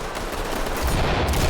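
A flashbang grenade goes off in the tactical shooter Ready or Not: a loud, dense burst of blast noise that swells and stays heavy for over a second, with a deeper rumble building toward the end.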